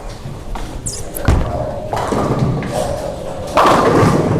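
Bowling ball crashing into pins during practice for the USBC Open Championships: a heavy thud lands, then a rolling clatter builds to a louder crash near the end, with faint background lane noise.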